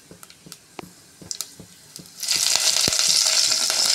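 Scattered small pops and crackles, then a sudden loud, steady sizzle as something hits a hot oily pan and keeps frying.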